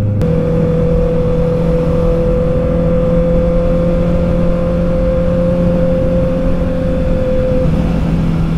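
Honda CB650R motorcycle engine on a city ride, a loud, steady drone with a constant pitch and continuous wind rush, no talk over it.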